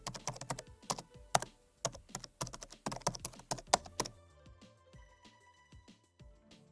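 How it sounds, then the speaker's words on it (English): Fingers tap quickly on a computer keyboard, a close run of crisp clicks that stops partway through, leaving a few quieter taps and faint tonal chimes. "we go back to the Indicators tab and type in the search box"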